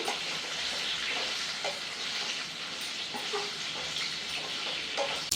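Vegetable pieces being mixed in a frying pan for a traditional mukkala pulusu, with loud constant sizzling and occasional soft scraping stirs close by.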